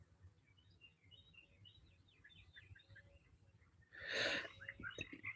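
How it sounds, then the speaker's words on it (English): Small birds chirp and tweet in soft, scattered calls against a low background rumble, joined near the end by a louder, sudden burst of noise. "the birds are happy"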